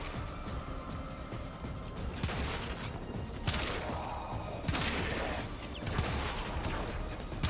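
Repeated bursts of gunfire in the Warframe video game, loud crackling volleys over a busy background of game effects, with several sharper blasts spaced a second or so apart and no talking.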